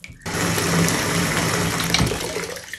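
Water running from a tap into a bathtub, a steady loud rushing gush that starts abruptly and continues throughout.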